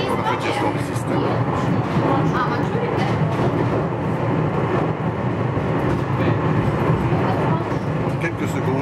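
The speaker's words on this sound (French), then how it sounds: "Comme funiculaire qui se respecte, nous sommes dirigés par un câble." A cable-driven funicular railway car rumbles steadily along its track, a dense, continuous mechanical roar with rattling close by and no break.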